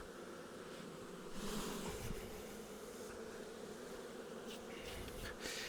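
Carniolan honey bees swarm and buzz around a twelve-frame wooden hive, a dense, steady droning hum close by that swells briefly, with no voices.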